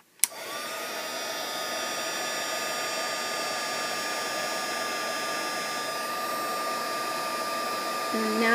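A heat tool blows a steady, loud whoosh of hot air over a shrink plastic earring piece, holding constant for several seconds after a brief click as it switches on.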